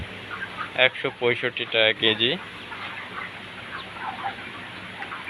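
Broiler chickens on a farm, being sold, give soft clucks, faint and scattered beneath and after a man's short spoken remark.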